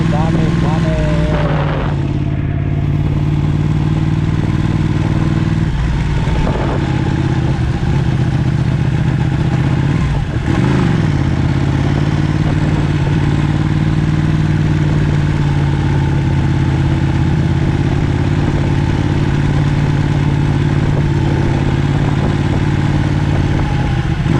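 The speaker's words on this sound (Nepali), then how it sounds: "यस्तो बाइक चलाउनु मात्रै आज पुरा भयो सपना" A motorcycle engine hums steadily close by for the whole stretch, a low droning tone with a few brief bumps and rattles along the way; the pitch stays mostly even with small shifts.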